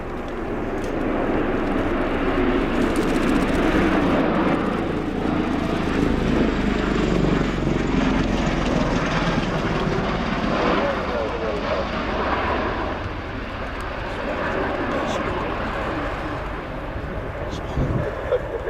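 A Bell-Boeing CV-22B Osprey tiltrotor aircraft roars steadily overhead at an airshow, its loud, throbbing rotor drone filling the whole stretch and easing slightly toward the end.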